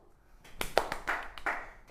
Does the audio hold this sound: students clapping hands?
yes